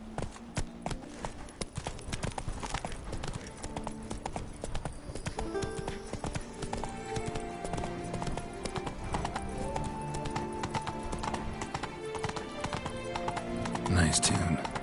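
Horse hooves clip-clop steadily on the ground in The Witcher 3: Wild Hunt, a continuous rhythmic trot under game music and ambient sound, with a voice speaking over it.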